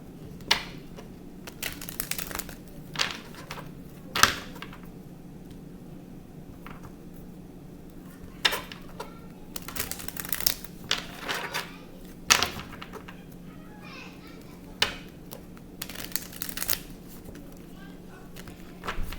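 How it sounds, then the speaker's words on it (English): A deck of tarot cards is shuffled close up in short, irregular bursts of papery riffling and slapping, separated by quiet pauses, with a low steady hum underneath. "I'm going to shuffle the cards."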